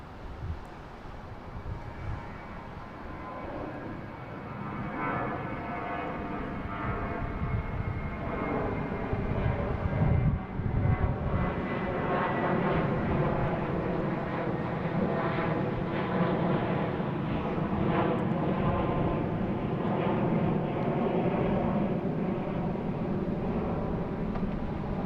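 American Airlines A321 airliner at Boston Logan airport, bound for Charlotte: a steady, sustained jet engine roar that swells slightly and holds loud throughout, with broad rumbling noise and faint tonal whine, no talking.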